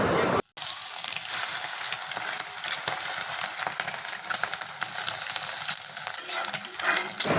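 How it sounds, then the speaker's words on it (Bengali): An egg seasoned with salt, turmeric, onion and green chilli fries in oil in a wok, giving a continuous close sizzle with spattering crackles and a short break near the beginning. "একটা ডিম ভাজা করতে দিয়ে দিয়েছি"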